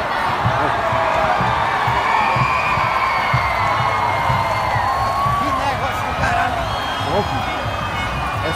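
A crowd claps and cheers for a senator at a public inauguration event. The ovation is loud and sustained, with whoops and shouts rising over continuous applause, and voices mix in throughout.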